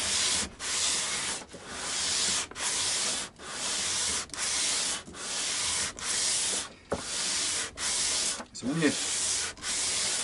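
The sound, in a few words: sanding guitar part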